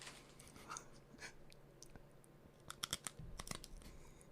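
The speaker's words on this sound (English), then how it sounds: "that's the sound of Elvis eating a cracker" Cracker being eaten near the mic, with scattered crunchy bites and crinkly chewing clicks, bunched into a louder burst toward the end, over a low background hum.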